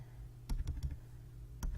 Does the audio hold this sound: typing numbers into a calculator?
yes